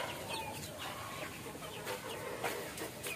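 Heritage chickens cluck softly in a backyard flock, with scattered short calls over a steady low outdoor background, fairly faint and without speech.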